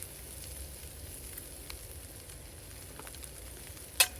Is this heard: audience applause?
no